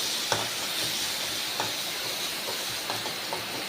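Sliced onion and garlic sautéing in a hot pan give a steady close hiss and sizzle, broken by a few soft stirring taps, with no voices.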